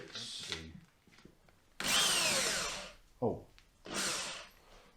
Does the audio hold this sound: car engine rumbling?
no